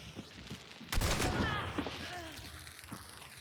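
A powerful close-range shotgun blast in Hunt: Showdown, one loud boom near the one-second mark followed by a ringing decay and faint tail, with game ambience before and after.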